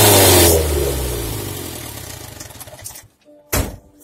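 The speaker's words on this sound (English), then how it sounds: "I want to hear what this thing sounds like with no exhaust on it." A Morris Minor engine runs with no exhaust fitted, loud and close as it revs and then dies away, followed by a brief sharp burst of noise.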